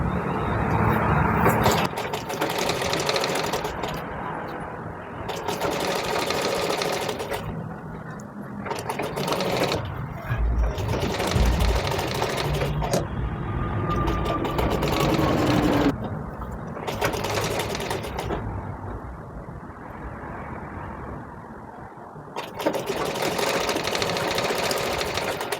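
Sewing machine stitching the seam edge of an umbrella frock, a loud steady mechanical whir in long runs broken by brief pauses, with a voice speaking at times over it.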